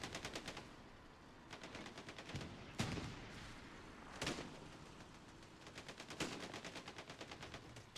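Rapid automatic gunfire crackles through a multiplayer shooter match, with repeated bursts and a few louder single booms standing out, fairly faint and dense throughout.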